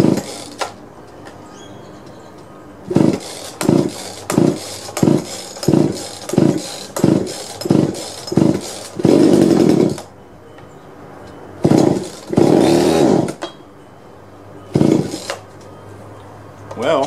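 A junked chainsaw with no primer bulb, fired up in a series of short rhythmic bursts of about ten quick pulls, then two longer revving runs and a final brief burst, loud and close with quiet gaps between.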